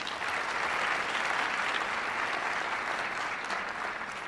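Continuous audience applause at a university multicultural graduation celebration, a full, even roar of many hands clapping at steady volume with no speech over it.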